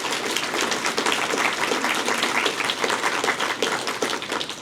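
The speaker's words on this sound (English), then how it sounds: "can you go ahead and give your teachers a round of applause while I'm at it?" Audience applause for teachers at an eighth grade promotion ceremony, a dense, steady burst of many hands clapping together that holds at full strength throughout, with no voices heard over it.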